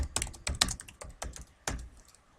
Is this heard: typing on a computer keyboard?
yes